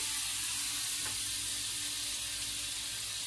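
Steady sizzling of food frying in a hot pan, a continuous crackling hiss that fills the whole stretch with no talk over it.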